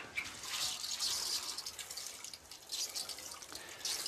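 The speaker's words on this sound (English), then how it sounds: "So I'll water it." Sieved compost mix is watered, giving a soft, steady hiss and patter of water falling onto the crumbly mix, faint and close, with brief splashy bursts and no talk.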